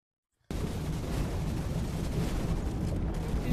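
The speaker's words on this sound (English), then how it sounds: "Someone else is shooting at me." Gunfire in the shooter game Gun Raiders starts abruptly as a dense, loud, continuous roar of shots that holds steady after a moment of silence.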